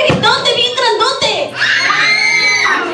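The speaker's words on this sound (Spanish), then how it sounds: "¡Un gritote bien grandote!" A loud burst of screaming from a group, mostly children's voices, rising into a sustained shriek after a few excited shouts.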